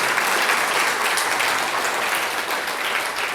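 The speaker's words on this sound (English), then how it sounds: "maybe just one more round of applause for Kobe Morrison" A round of applause from a forum audience, dense steady clapping from many hands that fills the room evenly and carries on without pause.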